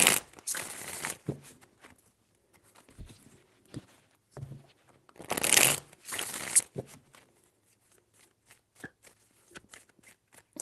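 Tarot cards are shuffled by hand in quick bursts of riffling and sliding, with two longer flurries separated by softer taps and card handling, close and without speech.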